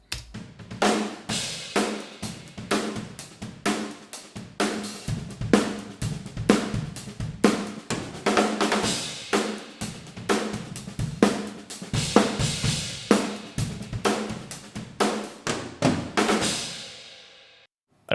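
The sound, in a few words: drum kit recording with polarity inverted on one snare mic track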